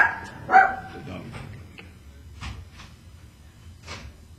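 A dog gives a sharp bark near the start, followed by a few fainter yips and muffled barks over a low room rumble, heard close in a scene from an old film.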